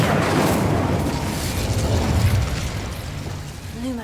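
An Incendio fire spell is cast in the Hogwarts Legacy video game, producing a loud, rumbling whoosh of flame that holds steady and slowly fades over a few seconds.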